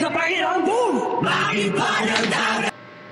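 Someone in the crowd shouts loudly during a live performance, with a wavering yell over cheering and music that cuts off near the end.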